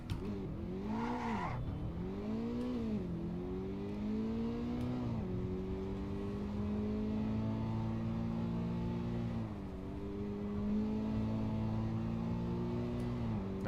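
A 2.4-litre boxer-engine car in Assetto Corsa EVO drones steadily, its pitch climbing and dropping as it shifts through gears, with no talking.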